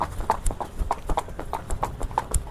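Horse hooves clip-clopping during a ride, quick regular beats at a brisk gait, close and clear, with no voices.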